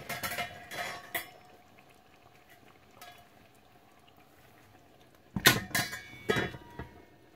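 A lid is placed on a pan of pork ribs, with sharp metallic clanks and rattles near the start and a louder clatter later, over a quiet background.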